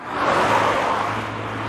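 A Peugeot 308 GTi on a race circuit passes with a short, loud whoosh of engine and tyre noise that swells and then fades away.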